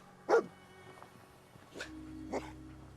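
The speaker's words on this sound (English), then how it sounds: "I'm gonna hear that damn dog barking in me sleep" A dog barks in the Fallout 4 video game, with three short, separated barks: a loud one near the start and two softer ones later over a low steady game hum.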